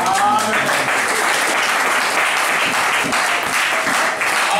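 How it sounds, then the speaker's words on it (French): A church congregation bursts into loud, sustained applause, dense clapping holding steady throughout with a faint trace of voices underneath. "Tu peux t'asseoir en acclamant très fort la parole de Dieu."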